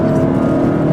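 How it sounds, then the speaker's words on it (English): A 2015 Honda Fit engine revving while driving, a steady close mechanical hum with strong low tones, brief and continuous. "This thing revs higher than a lot of its competitors."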